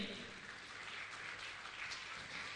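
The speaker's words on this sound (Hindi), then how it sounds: "जोरदार तालियों बजाकर का सम्मान करें" Applause for honored guests at a Jain monk's religious question-and-answer gathering in Banaras: a steady, even wash of many hands clapping together, faint and distant, lasting throughout without any talking.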